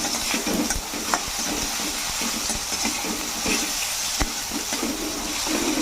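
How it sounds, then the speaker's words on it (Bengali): Tomato and green chillies fry in a pan for a spinach and paneer dish, a steady close sizzle with occasional sharp clicks of stirring throughout, no talking. "টমেটোটা একটু ভাজা হয়ে গেছে এর মধ্যে এবার দুটো কাঁচা লঙ্কা দিয়ে দিচ্ছি"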